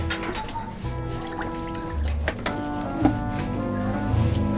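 Water pours and splashes while something is being rinsed, with irregular sloshing, drips and gurgles up close and a few sharper splashes, and no talk over it.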